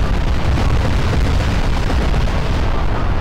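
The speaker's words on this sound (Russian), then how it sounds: "будем смотреть взрыв" A bomb blast in Garry's Mod, a loud, continuous roaring rumble filling the whole moment with heavy low-end boom and no voices.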